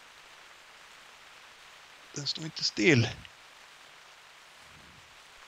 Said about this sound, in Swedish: Det här regnet var väldigt vackert.